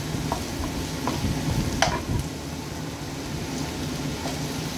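Carrots and beans being stirred in a cooking pan, a continuous low sizzle with scattered scraping and clinking of the spoon, one sharper clatter near the middle.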